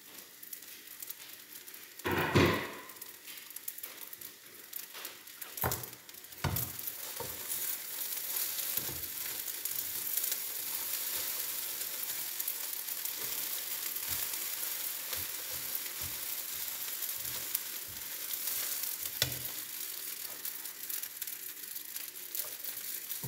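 Beef pieces frying in a pan sizzle steadily at close range, broken by a few louder clanks and scrapes of stirring, with no talk.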